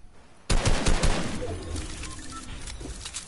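Video game gunfire aimed at the player: a sudden loud burst of rapid automatic shots, close and sharp, fading into a rattling tail.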